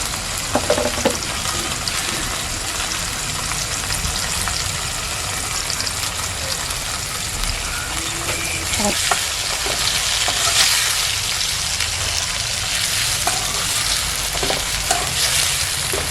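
Tomatoes sauté in a pan for a mango fish curry, a loud, dense, continuous sizzle close up with occasional stirring scrapes and clinks, no speech.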